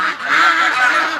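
A flock of pet ducks honks and quacks loudly in one continuous, dense chorus, close by and with no talk over it.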